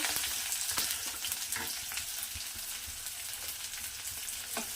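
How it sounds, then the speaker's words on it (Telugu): Cumin seeds, mustard seeds and chopped onions frying in hot oil in a kadai, a steady close sizzle with small crackles and pops throughout, no voices. "కొద్దిగా ఆయిల్ వేసి ఆయిల్ హీట్ అయిన తర్వాత కొన్ని జీలకర్ర, ఆవాలు, కట్ చేసి పెట్టుకున్న ఆనియన్స్"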